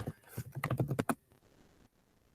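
Quick burst of typing on a computer keyboard, a dozen or so close, crisp key clicks over about a second, then near silence.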